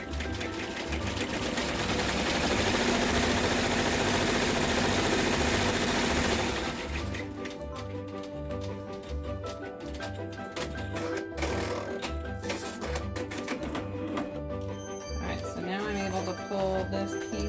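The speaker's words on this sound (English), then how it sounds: "now the straight stitch is going to stitch out." An embroidery machine sews a straight stitch on a zipper bag design with a rapid, steady mechanical chatter, first as a dense whir and then as more distinct rhythmic clicking. A voice talks over it at times.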